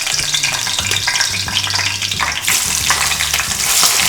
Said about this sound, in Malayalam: എണ്ണ ചൂടായി. നമുക്ക് ഇതിനകത്ത് പൊടിക്കാത്ത കുറച്ച് മസാല അതിനകത്ത് ജസ്റ്റ് ഒന്ന് ചേർക്കുന്നുണ്ട്.